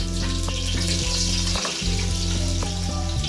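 Cloves, cinnamon, cardamom and curry leaves crackle and sputter in hot oil in a pan, a dense close sizzle broken by repeated scraping stirs, with no voices.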